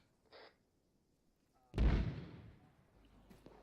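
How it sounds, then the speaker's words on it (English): Mortar fire during an airsoft platoon training exercise: one deep boom some distance off, rolling and fading over about a second, after a brief faint sound and with sparse quiet around it. "Mortars are firing again."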